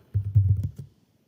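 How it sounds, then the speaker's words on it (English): A short burst of keystrokes on a computer keyboard as a search keyword is entered, a handful of quick close taps lasting under a second. "And let's type the keyword Cinderella."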